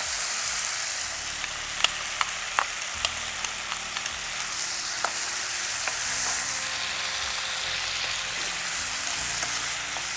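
Bitter leafy greens sauté with garlic in a hot pan, giving a constant close sizzle dotted with small crackles and pops, with no talking.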